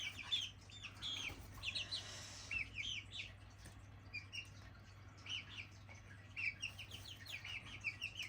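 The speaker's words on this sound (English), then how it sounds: "What are you flapping at me for, you silly chick?" A young chick flaps and gives soft clucks and chirps, a series of short, faint calls scattered over a low steady hum.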